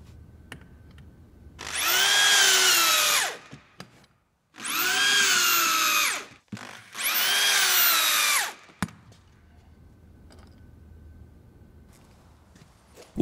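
A power drill driving insulation anchors into a wall runs in three loud sustained bursts of about two seconds each, its whine dipping in pitch as it loads up, separated by short quiet gaps.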